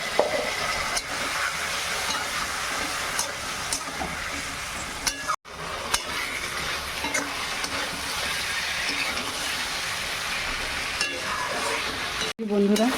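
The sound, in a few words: spice mix being stirred and sautéed in a pan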